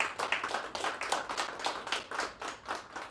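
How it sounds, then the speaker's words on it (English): Guests at an appreciation dinner for a Kenyan darts player clap in a fairly regular rhythm of quick pulses. The clapping is moderately loud and steady throughout. "I think it deserves a round of applause."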